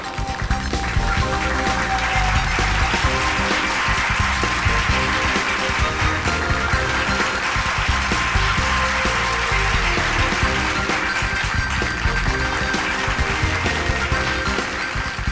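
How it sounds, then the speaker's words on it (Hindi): Audience applause greets a magician's special stage act in a crime drama, a dense, continuous wash of clapping that holds at a steady level throughout, with faint tonal sounds underneath. "तो जोरदार तालियों के साथ इनका अभिनंदन करिए।"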